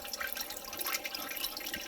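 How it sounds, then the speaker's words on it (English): A Fluval FX6 aquarium canister filter restarts and runs, giving a steady, close trickle and splash of flowing water with faint drips throughout. "Fluval FX6 is back and running"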